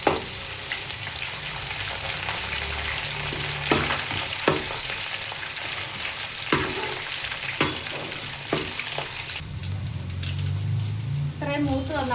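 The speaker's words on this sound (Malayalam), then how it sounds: "കുറച്ച് ഇഞ്ചി വെളുത്തുള്ളി അങ്ങോട്ടിടുക. അത് മൂത്ത് വരുമ്പോൾ" Ginger and garlic frying in oil for a coconut-free fish curry, a continuous sizzle with spoon stirring clacks and scrapes, heard under a person talking.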